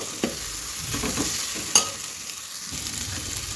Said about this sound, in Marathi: एक दोन मिनटं आपण बारीक गॅसवरती भाजून घेऊया मसाला